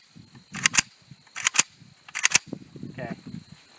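AK-74 rifle fired outdoors in three sharp bursts of two or three loud cracks each, with murmured voices and handling noise in the gaps between them.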